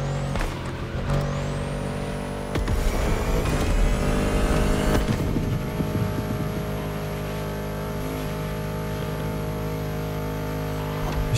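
A Bugatti engine in the racing video game The Crew Motorfest, a steady loud high-pitched whine and drone with rising revs, continuous throughout and without talk.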